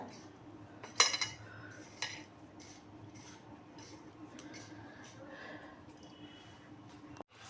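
Spice masala mixed in a bowl with a spoon, a couple of bright clinks followed by soft scraping stirs, quiet and close.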